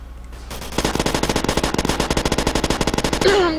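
Rapid machine gun fire in the Roblox game Call of Robloxia, a long unbroken burst of evenly spaced shots lasting about three seconds after a brief quiet start, loud and close.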